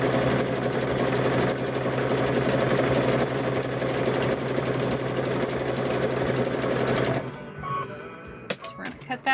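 A sewing machine stitches fabric for bowl covers with a steady, loud, fast mechanical whir that runs for about seven seconds and then stops, leaving a few clicks and handling noises.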